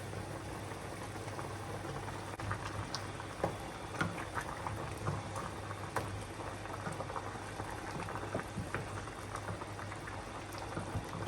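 Water bubbles at a steady boil in a pot of tuozaafi on a home kitchen stove, a continuous close roiling burble with small pops and no voices.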